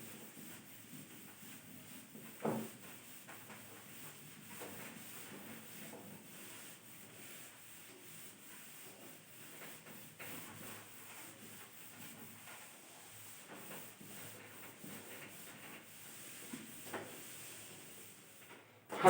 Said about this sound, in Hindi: अब इसको रब करके मैं आगे बढ़ता हूं